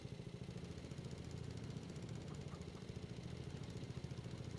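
A lawn mower engine runs steadily with a low, even, throbbing drone and a rough vibration, continuous and fairly faint throughout.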